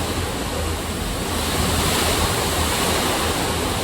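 Loud, steady roar of strong typhoon wind and heavy rain, a dense continuous rush with gusts buffeting the microphone.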